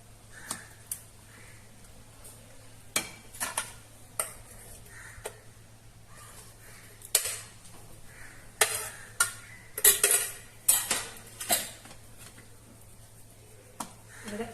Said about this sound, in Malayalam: നല്ല പഴുത്ത പഴം എടുത്തിട്ട് ഇങ്ങനെ കുറച്ച് കുറച്ച് ഇങ്ങനെ ആഡ് ചെയ്തിട്ട് കൊടുക്കുക. ഇത് നല്ലതുപോലെ ഇങ്ങനെ മിക്സ് ചെയ്യാം.